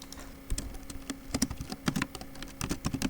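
A computer keyboard clatters with fast, close keystrokes while JavaScript canvas code is deleted, in irregular bursts of light taps and no talking.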